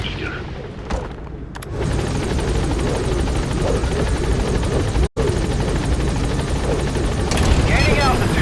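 Military helicopter in Metal Gear Solid climbing to gain altitude, its loud steady rotor drone filling the scene after a brief quieter start, with a sharp momentary cutout midway and a faint voice underneath.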